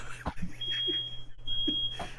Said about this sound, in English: even made my alarm go off